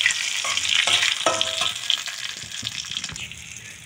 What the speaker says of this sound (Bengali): তেল দিয়ে একটু ভালো করে ভেজে নেব।